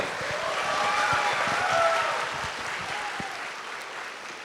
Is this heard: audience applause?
yes